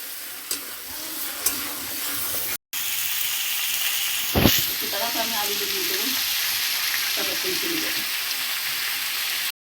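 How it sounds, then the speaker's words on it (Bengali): Meat sizzles and fries steadily in a pan for biryani, with stirring scrapes and a brief sharp clatter partway through; the hiss stays continuous at close range while a voice talks briefly. "এবারে মাংসটা কষায় নি ভালো করে।"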